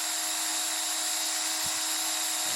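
A steady high-pitched electric whine drones continuously without a break from a 370-watt electric drill running at full speed nearby, powered by a 1000W inverter.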